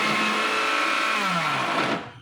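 A kitchen blender runs steadily with a dense, loud whir, its motor pitch dipping slightly near the end before winding down and cutting off.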